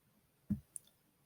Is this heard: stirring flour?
no